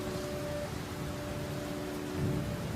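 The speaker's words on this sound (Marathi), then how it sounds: "विजांचा कडकडाट होईल ढगांचा गडगडाट होईल" Low rolling thunder rumbles under a steady wash of rain, swelling slightly louder at the end.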